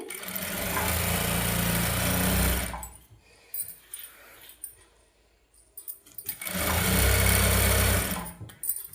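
Sewing machine running on a normal domestic machine while stitching a saree fall, two loud sustained bursts of motor whir and needle chatter separated by a quieter pause with light handling noises.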